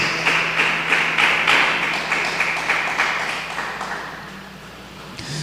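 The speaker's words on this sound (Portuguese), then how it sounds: "Aplauda ao Senhor, porque Ele é digno." A church congregation claps together during a worship service, a fairly loud, steady patter of many hands that gradually thins and fades over several seconds.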